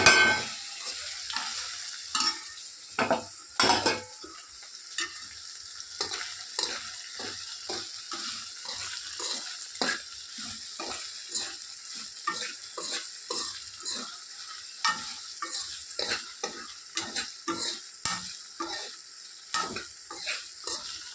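Okra frying in a pan under constant stirring, a low sizzle punctuated by many quick, rhythmic scrapes and taps of a spatula against the metal, close and continuous.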